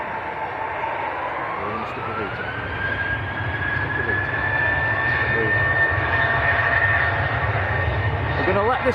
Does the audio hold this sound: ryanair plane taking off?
yes